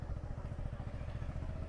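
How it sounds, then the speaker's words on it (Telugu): A motorcycle engine runs with a low, steady rumble while the bike is parked at a roadside parking area near Rampachodavaram, close up and continuous, with no voices. "బైక్స్ అయితే ఇక్కడ పార్క్ చేసేద్దాం"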